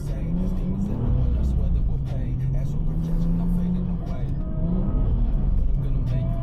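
A turbocharged drift car decorated for Christmas runs its engine in a steady, loud, droning rev that holds and shifts pitch slightly. Voices talk over it in the background.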